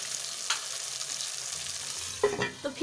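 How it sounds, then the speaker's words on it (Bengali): Potatoes being stirred with spices in a pan, a soft sizzle underneath with a few louder scraping clinks of the utensil near the end. "আলুগুলো খুব সুন্দরভাবে মশলার সাথে মিক্স করে নেব"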